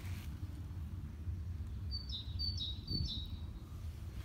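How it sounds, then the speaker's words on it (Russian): Small birds sing in a dacha garden in spring among newly blooming tulips, a short run of four or five quick high chirps from mid-distance over a steady low background rumble. "Птички, послушайте, как поют."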